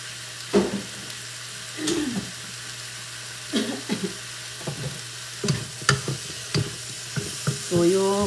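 Vegetables stir-fry in a pan with a little soy sauce, bursts of sizzling and stirring scrapes coming in irregular pulses over a low steady hum.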